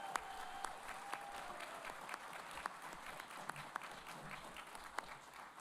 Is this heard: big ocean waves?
no